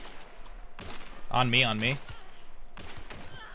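Gunfire in the Hunt: Showdown video game cracks in a couple of sharp bursts, with a player talking over them.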